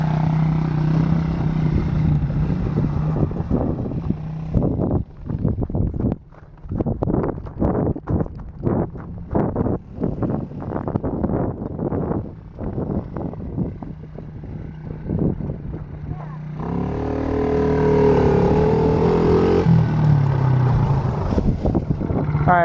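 Small free quad ATV engine with a loose muffler revving outdoors on a top speed run, a choppy broken drone with wind buffeting, then rising to a steadier louder whine near the end.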